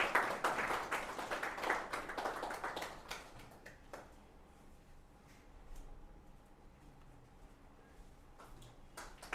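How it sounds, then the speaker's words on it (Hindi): Audience clapping at a gathering for Rajasthan civil service exam aspirants, dense and fairly loud for the first few seconds, then thinning to scattered claps and quiet room noise with a few sharp taps near the end. "उनके लिए भी एक बार जोरदार तालियां बजा दो भाई।"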